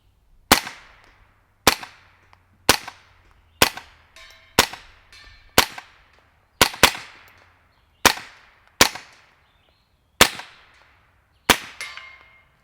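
A suppressed Smith & Wesson 1522P pistol firing CCI standard rimfire ammunition: about a dozen sharp, clacky shots at an uneven pace, each a crisp snap of the action with a short decaying tail, close and clear with no talking.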